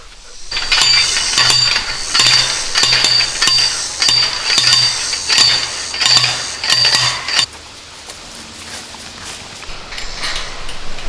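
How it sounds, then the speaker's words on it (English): Metal T-post being hammered into the ground outdoors while securing a wild boar trap: a loud, steady series of about ten ringing metallic strikes in even rhythm, then stopping, leaving quiet ambient background. "Just drove a T-post down on the ground and used a U-bolt"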